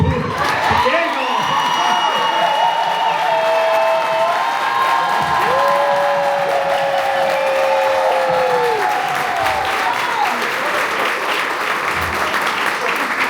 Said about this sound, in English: I want us to give a round of applause to Diego.